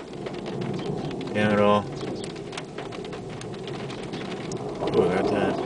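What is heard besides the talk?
rain falling during thunderstorm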